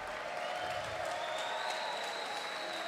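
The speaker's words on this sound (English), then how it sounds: "Everyone, give a round of applause for Mr." Crowd applause fills the arena after a GLORY 68 kickboxing fight, a steady, dense wash of clapping that continues evenly throughout.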